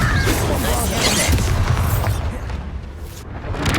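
Blasting Confringo spell explosions in the Hogwarts Legacy video game, a dense loud booming burst that rolls on through the clip with crackling debris, then briefly dips before swelling again.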